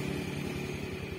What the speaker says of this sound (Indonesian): Itu ada motor naik.